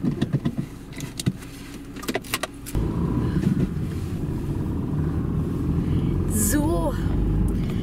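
A car drives along a road with a steady low engine rumble and road noise that fills in after a few seconds of handling clicks and thumps, while a person speaks briefly.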